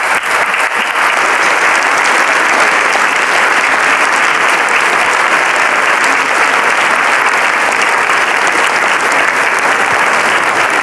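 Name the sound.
audience applauding game show finalists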